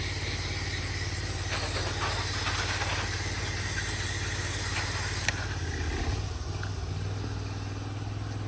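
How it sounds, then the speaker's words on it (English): A pressure washer idled down a little runs as a steady, close mechanical drone throughout, spraying soap through a Davis shooter tip high up onto the shaded siding of a house during a house wash, with no talking. "I am pulling soap right now. I'm using the Davis shooter tip, and it is hitting way up there"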